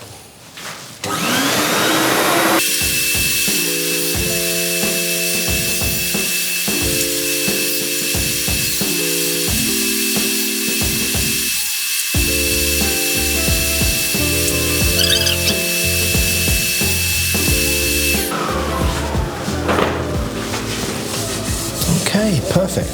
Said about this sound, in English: it's just a question of going through the grits and getting it sanded down to 600